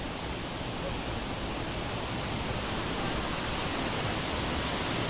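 Jet Khot waterfall in a Thai national park roars as a steady, dense rush of falling water, loud and continuous with no pauses.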